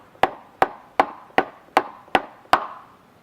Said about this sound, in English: Hold one cap in place while completely hammering on the other hubcap.